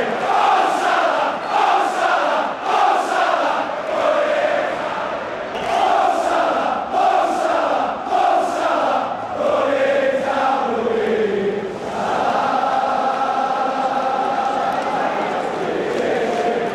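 Football stadium crowd roaring and chanting in rhythmic waves, a large, loud mass of voices rising and falling in repeated surges, with someone talking over part of it.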